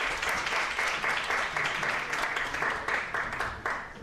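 Sustained audience clapping at a short film festival ceremony in Istanbul as a speaker is called to the stage, a thick continuous patter of many hands, loud and steady throughout.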